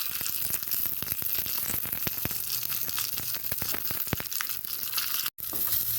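Mustard seeds, chana dal and urad dal frying in hot oil: steady dense crackle and spatter with frequent sharp pops, loud and close, running throughout, with a brief dropout near the end.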